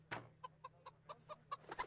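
Chicken in the Kingdom Come Deliverance video game, a quick string of about ten close clucks at an uneven rhythm, growing denser toward the end, heard alone.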